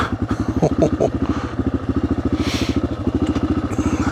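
A Yamaha XT600 dual-sport motorcycle rides slowly over slippery ground, its single-cylinder engine thumping in a steady, fast loping rhythm close by while the back wheel spins, with a few clattering knocks early on.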